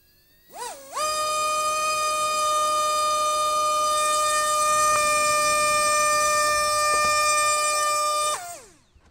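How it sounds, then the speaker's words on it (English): A small helicopter's tail rotor spins up at speed, producing a loud, steady high-pitched tonal whine that rises quickly, holds constant for about seven seconds, then drops away, close and alone. "let's check the tail rotor speed, how fast that little guy can get up to"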